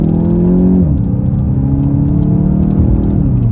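A 2022 VW GTI with the 7-speed DSG accelerates hard through the gears, its engine droning loud and close, then dropping in pitch at one quick upshift before climbing steadily again, with no talk.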